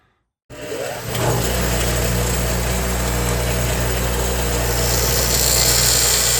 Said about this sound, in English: let's grind this down a little bit. Kind of make it more Hopkins lure shaped